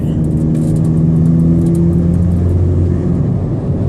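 A four-wheel-drive car's engine hums loud and close, holding a steady mid-revving drone with slight pitch shifts throughout, no speech.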